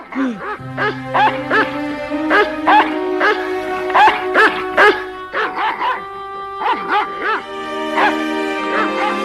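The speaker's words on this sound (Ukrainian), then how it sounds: "Собака кличе нас за собою." A dog barks repeatedly in quick, uneven bursts, loud and close, with some higher yips mixed in.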